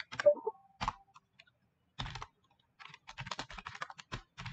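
Short bursts of keystrokes as a terminal command is typed on a computer keyboard, close and clear with brief pauses between clusters of clicks, no talking.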